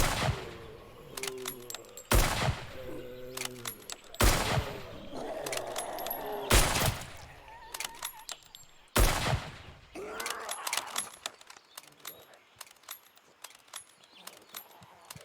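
Gunfire in the Humanitz zombie video game, a series of sharp loud shots spaced every two seconds or so with mechanical clanks and rattles between them, then a quicker scatter of lighter pops.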